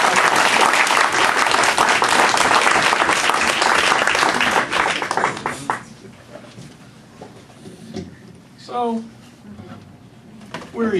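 Loud applause from a comedy improv audience fills the first half, then fades into scattered claps as a performer starts talking.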